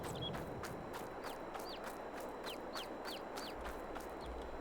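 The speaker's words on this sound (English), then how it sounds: "You can hear the little chicks inside the chicken coop chirping away" Little chicks chirping inside a chicken coop in Farming Simulator 22: a series of short, high, rising peeps repeating every half second or so, faint over a low steady ambient hum.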